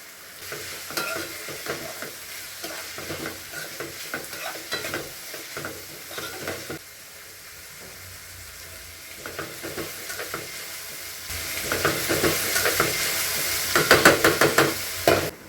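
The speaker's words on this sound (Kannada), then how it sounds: "ಇವಾಗ ಒಂದು ಹತ್ತು ನಿಮಿಷ ತರಕಾರಿ ಫ್ರೈ ಆಗೋ ಬಿಡ್ತೀನಿ" Vegetables fry in a pan for a Kannada shavige bath, with rhythmic scraping strokes of stirring over a soft sizzle, then a louder, hissing sizzle with sharp spoon knocks near the end.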